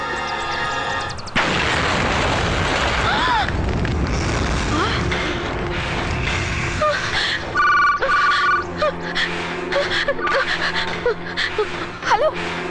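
A movie explosion at a house gate, a sudden loud boom followed by a long rumbling, crackling aftermath with scattered clatter and tonal effects.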